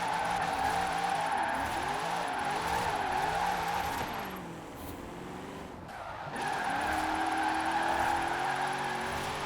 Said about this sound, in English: I wanted to see if I could actually use 5th gear to slide. And I can.